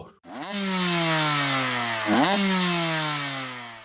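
A motorcycle engine revs hard twice, rising to a sharp high-pitched buzz, dipping briefly, then climbing again before slowly settling, loud and close with no voices.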